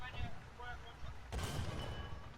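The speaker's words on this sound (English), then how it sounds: "so he decides to call an artillery here. Listen to the whistle." A War Thunder artillery strike lands with a sharp explosion midway, preceded by a faint descending whistle, with rumbling debris after.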